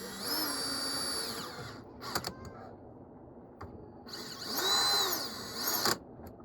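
Power driver tightening screws on an STO 9.5-inch control panel counter extension, two whirring bursts separated by a quiet pause, fairly close and moderately loud with no talk.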